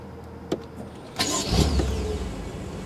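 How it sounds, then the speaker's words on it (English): A BMW M6 Gran Coupe twin-turbo V8 starts nearby with a brief starter whir, then swells into a deep, steady rumble that holds on at a fast idle. "Beautiful sound from that twin-turbo V8"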